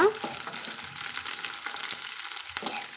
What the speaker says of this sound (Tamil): வெங்காயம் சேர்த்துட்டு நம்ம வதக்கி விட்டுக்கலாங்க